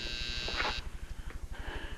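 An apartment door buzzer sounds in a loud, harsh burst of under a second, followed by a low pulsing hum and a fainter second tone.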